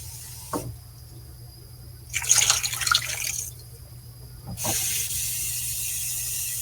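Water is poured into a pot over pork ribs and potatoes for apple bourbon ribs, in two fairly loud, steady gushing bursts separated by a pause, with light knocks before each.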